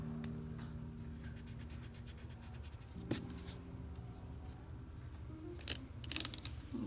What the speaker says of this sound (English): keep doing trace over all your lines with a black colored pencil